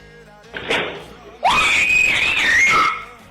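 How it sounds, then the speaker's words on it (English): A woman screams at a rat, a short yelp followed by a long, loud, piercing scream that wavers in pitch and holds for over a second before cutting off. "Did that woman just scream a rat to death?"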